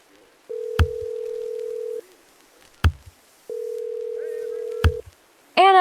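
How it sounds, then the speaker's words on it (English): A landline telephone sounds a steady dial tone, then pauses, then sounds it again, broken by sharp clicks of handling the handset. A brief voice follows at the end. "I dialed Anna's number as quickly as I could."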